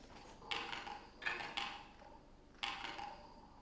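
A basic beat built from found sounds recorded on Pulau Ubin: a few sharp clattering, metallic hits spaced irregularly, each ringing briefly over a quiet background, soft and close.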